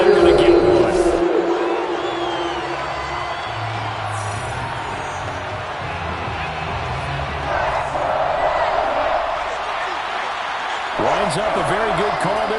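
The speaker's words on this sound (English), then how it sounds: "Plenty of shouts from this crowd as they watch the replay." A football stadium crowd roars and shouts steadily throughout, a dense wash of many voices at a distance, swelling slightly in the middle and again near the end, as fans watch a replay of an Eagles game play.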